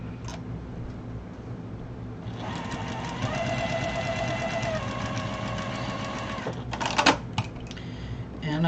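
A sewing machine stitches fabric pieces into flying-geese blocks for a long wall organizer, its steady mechanical whir running for several seconds over a low hum before stopping with a few clicks.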